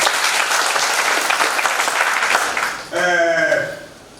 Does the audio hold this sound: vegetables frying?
no